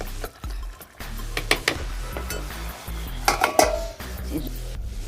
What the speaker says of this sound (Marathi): ही बघा काजूची भाजी शिजलेली आहे ढवळत आहे